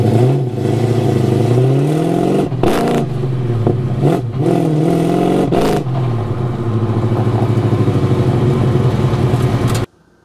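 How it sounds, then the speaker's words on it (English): A car at an autocross track runs with an engine misfiring and losing power; an HEI distributor fault is involved. The engine drones close and loud with uneven revs and sputtering dips before it cuts off abruptly near the end. "So the car is basically falling on its face, no power, misfiring it sounds like."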